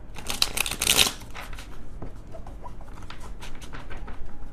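A small tarot card deck is shuffled close by in quick rustling riffles, loudest early on, followed by softer card handling and light taps.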